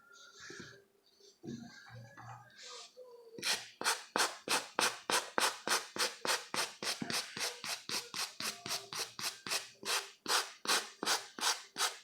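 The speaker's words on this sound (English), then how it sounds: "Now you can take your brush, see what you've done." A stiff brush scrubs grime from a felt hat in quick, regular back-and-forth rasping strokes, close and loud, after a few seconds of quieter handling.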